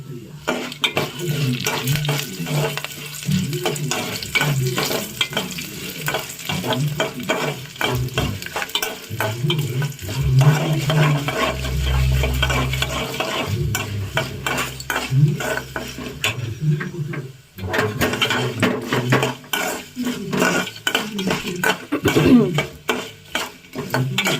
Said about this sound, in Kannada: ಮೆಣಸಿನ್ಕಾಯಿ ಕರಿಬೇವೆಲ್ಲ ಇವಾಗ ಒಂದು ಸ್ವಲ್ಪ ಫ್ರೈ ಆಗಿದೆ